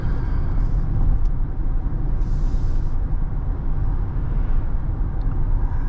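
Steady low rumble of a 2024 Kia EV9 electric SUV pulling away and accelerating on the road, with dense road and motor noise filling the scene at an even, loud level and no talking.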